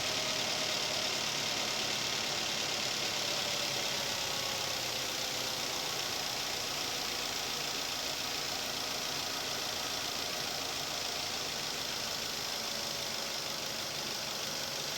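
A Daihatsu Terios engine fitted with a cold air intake runs steadily at close range, its broad, continuous mechanical hum and intake roar holding fairly even without clear revving or speech.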